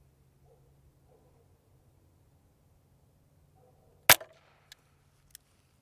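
A single sharp Glock 19 pistol shot cracks out during a trick-shot attempt at a range, loud and abrupt after a quiet stretch, followed by a couple of faint ticks and echoes.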